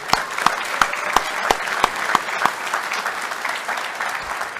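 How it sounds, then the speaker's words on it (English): An audience at a leadership conference breaks into applause, a few distinct sharp claps standing out early over a steady bed of crowd clapping that carries on for several seconds. "Just give him a round of applause too"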